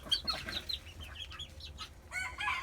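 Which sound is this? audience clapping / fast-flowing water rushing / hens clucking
hens clucking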